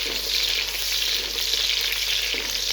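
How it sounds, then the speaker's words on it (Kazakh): Onions sizzle steadily in a generous pool of hot oil for a Kazakh-style home plov, a loud continuous frying hiss with faint stirring, no voices. "Пияздарымызды қызартып көріңіздер"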